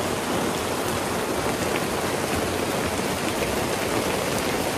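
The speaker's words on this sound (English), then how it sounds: "Rain, rain, rain." Steady rain falls outside at a homestead, a dense, even hiss of drops on surfaces that stays constant and fairly loud with no other sounds.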